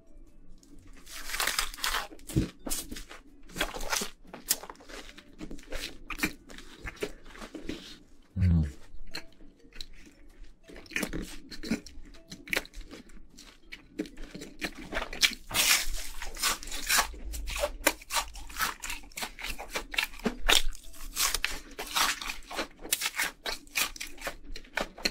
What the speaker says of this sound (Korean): 피자 한입 컷.